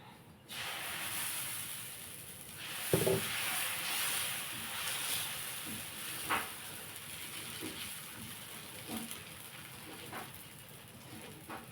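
A steady sizzling hiss comes from egg pesarattu, a green gram dosa, cooking on a hot pan, with a few faint clinks over the continuous frying noise and no talking.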